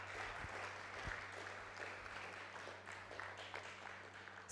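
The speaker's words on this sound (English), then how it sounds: "Another round of applause for Dr." Audience at an academic talk applauding, a steady soft patter of clapping from a modest crowd that runs throughout and sounds fairly distant.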